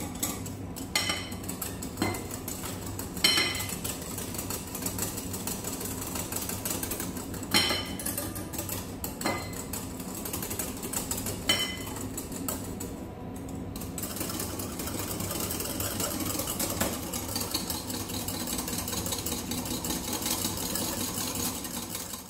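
Dalgona coffee mixture whisked until foamy, a steady mechanical whirring like a hand mixer with occasional clinks against the bowl, continuous throughout with no talking.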